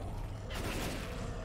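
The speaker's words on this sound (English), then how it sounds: "I'm reloading" A weapon being reloaded in Left 4 Dead 2 during the Dark Wood chapter: a short burst of mechanical clicks and ratcheting metal, heard close and fairly loud within the game's ambient noise.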